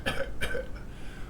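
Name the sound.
dry cough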